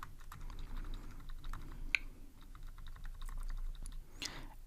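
Rapid typing on a computer keyboard, a quick string of light clicking keystrokes close by with one sharper tap, no speech.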